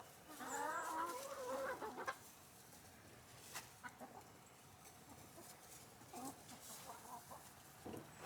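Chickens in outdoor chicken runs cluck softly at a distance in a short burst, then scattered faint clucks and scratching noises follow in a quiet yard.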